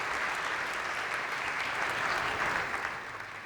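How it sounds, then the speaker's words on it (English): An audience at a startup accelerator demo day claps together in a steady, moderately distant wash of applause that tapers off toward the end. "Please give them a big applause once again."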